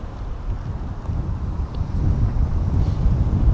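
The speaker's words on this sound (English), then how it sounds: "we're getting a strong gust now" Strong wind gust buffeting a microphone outdoors during drone flying at a leisure park in North Finchley, London, a loud low rumbling roar that builds and stays heavy.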